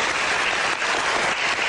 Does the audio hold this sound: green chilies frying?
no